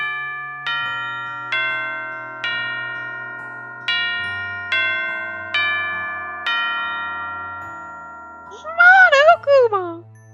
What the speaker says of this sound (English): Oh, that's the bell. It's lunchtime.